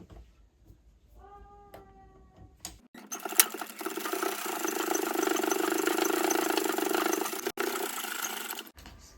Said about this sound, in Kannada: ಇವಾಗ ಇಲ್ಲಿ ಸ್ಟಿಚ್ ಹಾಕೊಬಿಡ್ತೀನಿ